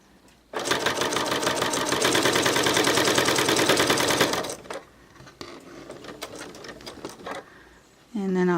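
A sewing machine stitching bias binding onto fabric runs in a loud, steady rapid whir for about four seconds, then stops, leaving quieter handling clicks and a brief voice near the end.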